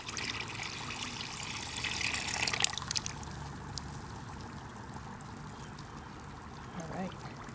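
Plaster powder poured into a container of water, giving a soft continuous trickling pour that swells for a few seconds and then eases into a low wash.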